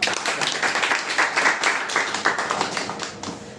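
An audience at a college lecture event claps in welcome for a speaker, a brisk burst of many hands that thins out toward the end.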